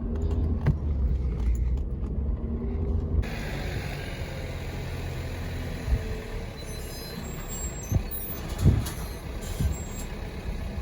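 A Powerstroke diesel pickup truck drives off-road through a mulch yard with a steady engine rumble, and a few louder bumps and rattles come from rough ground.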